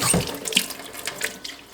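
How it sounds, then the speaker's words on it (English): Tap water runs into a sink as sprouts are rinsed with clean water, a steady close splashing stream with small surges and no talking. "all I'm doing about 3 to 4 times a day is rinsing with clean water"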